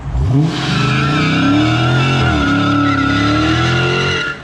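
A loud, sustained tire squeal with a revving engine underneath, rising and holding steady as the car does a burnout, spinning its wheels in place while held on the brake.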